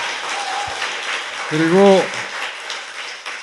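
A studio audience applauds on a Korean talk show. The clapping is steady and sustained while a voice briefly speaks over it midway.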